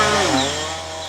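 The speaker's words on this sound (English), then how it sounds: "the sound of a power saw is heard" A power saw cutting timber in the Mount Kei forest near the South Sudan border gives a loud, sustained droning whine close by. Its pitch dips briefly before settling and fading slightly, with no voices present.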